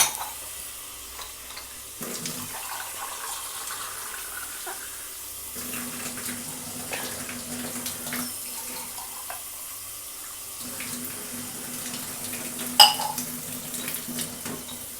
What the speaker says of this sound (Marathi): त्याच्यावर अशी प्लेट घालते, वरून पाणी टाकणार आहे